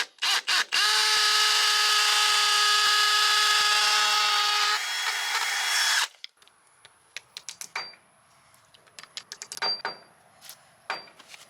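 A power drill with a 5.5mm bit runs loud and continuous for about six seconds drilling holes in a wall, then stops, followed by scattered clicks and taps of tools being handled nearby.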